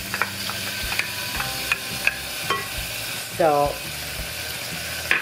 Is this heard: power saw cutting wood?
no